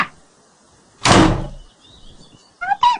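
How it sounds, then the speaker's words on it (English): A door slams once, close and loud, partway through. The room is otherwise quiet, and brief high vocal sounds follow near the end. "Slam the door on me like that."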